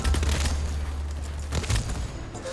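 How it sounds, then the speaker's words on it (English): DMR rifle shots in the shooter game BattleBit Remastered, with a few heavy booming reports, one at the start and another around the middle, over a loud low rumble. "I could hear a DMR shooting my left"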